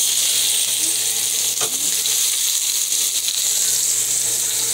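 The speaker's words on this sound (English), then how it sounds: "we're gonna take this and put it in our hot pan." Seasoned pork chops sizzle steadily in a hot pan, a constant loud hiss of frying filling the whole stretch with a faint low hum beneath and no talking.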